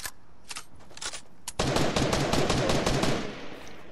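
Rapid gunfire rattles in the Fortnite video game, a few scattered shots giving way to a loud sustained burst of automatic fire that fills the rest of the moment.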